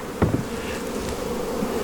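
Honey bees buzz steadily around hive frames while splits are being made, a continuous drone with a couple of brief knocks near the start.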